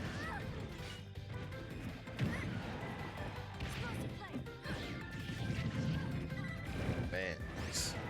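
Ridley's forward smash attacks landing in a Super Smash Bros. Ultimate tournament match, heard as repeated heavy crashing hits over dense game music and effects, with a commentator talking throughout.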